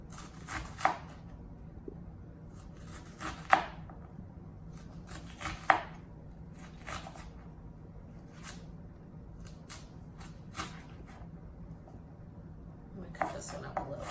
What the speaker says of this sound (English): And then just cut going backwards.